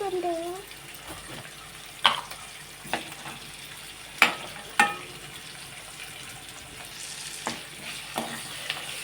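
Maggi noodles are stirred in a sizzling pan, with several sharp scrapes and clinks of a utensil against the metal over a soft frying background, and a voice is heard briefly at the start.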